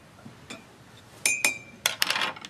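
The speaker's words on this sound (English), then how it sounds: "Just come to get me and Jay a glass of water." Glasses clink and knock lightly in a home kitchen as someone gets a glass of water, with a few sharp separate taps and rattles and one short ringing tone.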